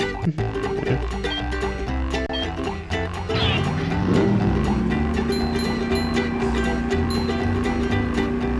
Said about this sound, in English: we're driving the paddy wagon here and collecting Nitro Boost